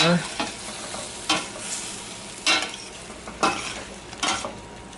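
Shrimp seasoned with black pepper sizzling in a pan under a constant frying hiss, with a utensil scraping through it in four or five distinct strokes spaced about a second apart.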